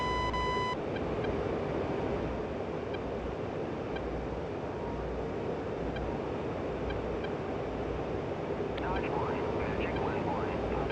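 An F-15C jet engine in DCS throttles up with a loud, steady roar and hiss that holds throughout, with a brief high tone at the start.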